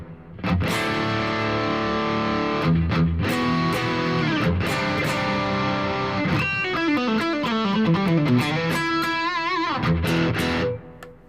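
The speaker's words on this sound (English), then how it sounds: "now you can hear we've got a much darker delay sound" A distorted electric guitar runs through a Boss GX-100 processor with a darker delay effect, played alone and loud, its notes and chords followed by repeating echoes that trail and blur together before stopping.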